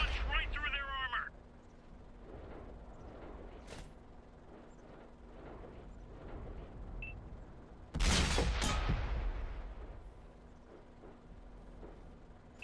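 A heavy 8.8 cm tank gun on a JagdTiger tank destroyer fires in World of Tanks on Xbox 360, one loud booming report with a long rumbling tail, set against quieter battle ambience and engine noise.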